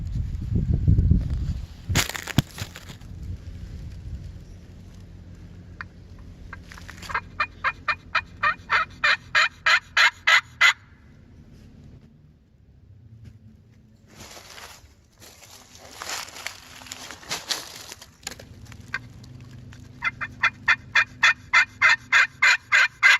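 A wild turkey gobbles during a spring turkey hunt, rapid rattling bursts heard several times at moderate distance, with handling rustle and crunching nearby.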